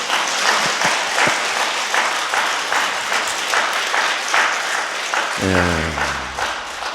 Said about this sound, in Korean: 박수 한번 치면 안 될까요?